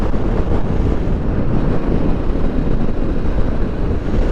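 Heavy wind roars steadily against a motorcycle rider on a hilly New Zealand highway, a loud, dense rumble of buffeting at the microphone with no break throughout.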